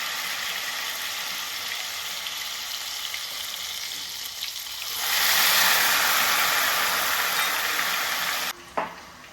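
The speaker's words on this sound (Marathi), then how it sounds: "हा एक असा ड्रॉप करत सोडायचा आपल्याला तेलात. आता आपला तेल तापलं आहे." Ghewar batter is dropped into hot oil and fries with a loud, steady bubbling sizzle. It swells sharply midway as fresh batter hits the oil, then cuts off near the end with a brief clatter.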